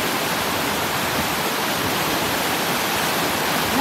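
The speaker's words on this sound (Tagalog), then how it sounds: "Ang lakas ng baha." Floodwater surges during Typhoon Agaton, a loud, unbroken roar of rushing water that fills the whole stretch without pause or voices.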